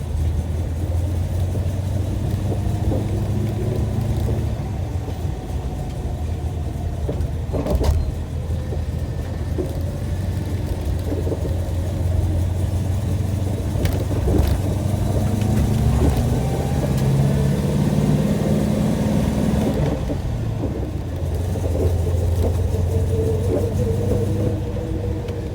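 A partially restored car with a rebuilt motor, its power steering whining: a steady low engine rumble and idle with a faint rising-falling whine threaded through it, continuous and close, no voices.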